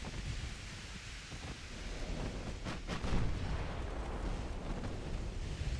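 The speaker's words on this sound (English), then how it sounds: "Big hits on the battleship." Heavy naval shell hits strike a battleship in the Ultimate Admiral Dreadnought naval warfare game: a continuous deep roar of rumbling booms and surf-like noise, with a louder cluster of impacts swelling midway, no voices.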